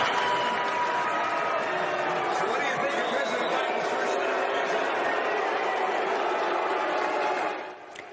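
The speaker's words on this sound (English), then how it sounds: "Senator Mitt Romney facing an angry crowd at the Utah Republican Party convention yesterday." An angry crowd at the Utah Republican Party convention reacts loudly to Senator Mitt Romney, a dense, sustained roar of many voices that carries steadily for several seconds before cutting off near the end.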